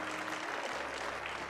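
A church congregation at a Sunday service claps hands together in a sustained burst of applause, a dense, even patter of many hands close by.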